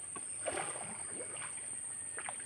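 A small boat carrying four people glides through a Sundarbans mangrove channel on an ebbing tide, with faint lapping and trickling water close by over a steady high whine.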